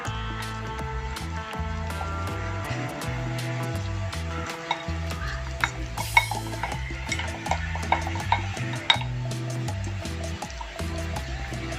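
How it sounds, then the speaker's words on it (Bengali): A spoon works through a thick potato and semolina batter, scraping and tapping against the bowl in quick, irregular strokes over steady background music. "খুব ভালো করে মিশিয়ে নেব।"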